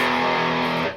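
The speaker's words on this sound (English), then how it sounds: "I feel like that's getting some really good distortion there" A sustained, saturated chord ringing out on an electric guitar through an Orange Micro Terror amp with heavy distortion, loud and close, held steady before cutting off abruptly at the end.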